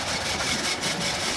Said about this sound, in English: here we are observing our new mulch making line